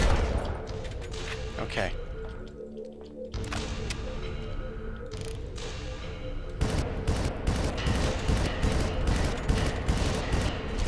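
Gunfire at enemies in the shooter video game Far Cry: sustained bursts of rapid automatic fire, loud and dense, easing briefly before resuming heavier; a voice speaks once.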